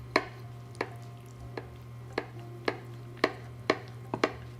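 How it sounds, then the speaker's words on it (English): A knife cutting down through a layered chiles rellenos casserole of poblanos, sauce and melted cheese, giving about ten separate crisp taps and crunches at uneven intervals over a steady low hum. "you want to use a knife to cut through this"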